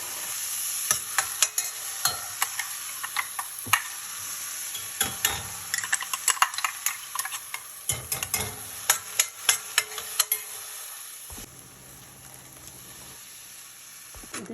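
Ground paste is stirred into snake gourd dal simmering in a pot, with quick repeated spoon clinks and scrapes against the vessel over a soft bubbling sizzle.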